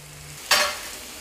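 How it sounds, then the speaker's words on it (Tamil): Fried bitter gourd tossed with masala in a hot pan, a single short scrape-and-sizzle burst of stirring, close and fairly loud, fading quickly into quiet. "ஃப்ரை பண்ணி வச்சுருக்க பாவக்காயை உள்ளே ஆட் பண்ணிட்டோம். இதை நல்லா இதில் பிரட்டிடுவோம்."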